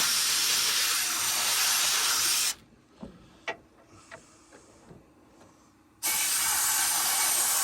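A sandblaster with moisture in its line, used on parts for a 1985.5 Yamaha Tri-Z 250, lets out a loud steady hiss that cuts off abruptly, leaving faint clicks and taps, then resumes just as loud.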